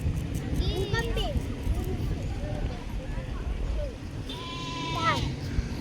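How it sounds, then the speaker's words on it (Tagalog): A goat bleats faintly several times, the calls scattered and partly masked by steady outdoor noise and people talking nearby. "Yung kambing."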